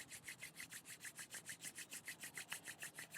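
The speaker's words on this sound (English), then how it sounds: "rub your palms together to create heat and energy" Palms rubbed briskly together in front of the chest during a yoga session, a steady back-and-forth swishing of about eighteen strokes in a quick even rhythm, close and quiet, with no talking.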